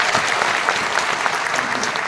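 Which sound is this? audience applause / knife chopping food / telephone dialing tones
audience applause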